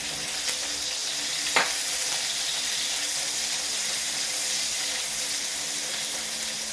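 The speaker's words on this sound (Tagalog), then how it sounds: "habang ginigisa natin yung sibuyas at bawang" Onion and garlic sautéing in a pan, a dense, steady sizzle close by with a single light clink of a utensil near the start.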